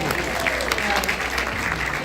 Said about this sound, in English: That deserves a round of applause.